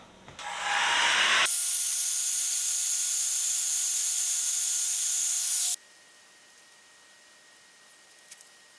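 Heat gun blowing on the adhesive tape of a Yamaha FJ09 Tracer motorcycle, a loud steady hiss with a high whine that runs about four seconds, then cuts off to quiet room tone.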